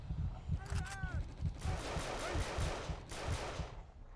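Gunfire in the Jonathan Kane: The Protector video game, rapid bursts of shots in a repeating rhythm, fairly close, with a brief tonal whine early on.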